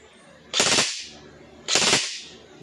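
An EC 312 CQB rifle fired on full auto outdoors: two short, sharp bursts about a second apart, each a loud clustered crack with a quick decaying tail, no talking between them.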